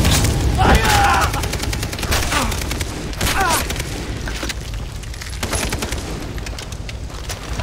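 Gunfire erupts in the Far Cry 3 video game as loud, dense bursts of shots and booms, with shouting voices mixed in throughout.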